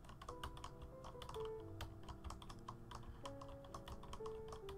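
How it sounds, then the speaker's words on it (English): A computer keyboard clatters under rapid typing, dense irregular clicks and key knocks close by, continuous for several seconds with no talk over it. "are you hearing like my keyboard clatters if I do this?"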